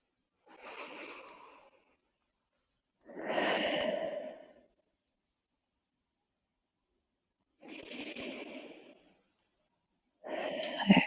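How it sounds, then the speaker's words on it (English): Four slow, deep breaths are taken during a yoga session for spinal care, each a soft airy exhale lasting about a second with near silence between them, close and gentle. "Couple more nice deep breaths here."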